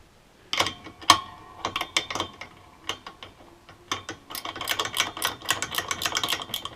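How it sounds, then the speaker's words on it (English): Ratchet spanner clicking in irregular bursts while turning the shock absorber nut on an E39 M5 Bilstein B8 shock and Intrax lowering spring assembly, close and sharp, ending in a denser run of rapid ratchet clicks. "you just use a ratchet spanner."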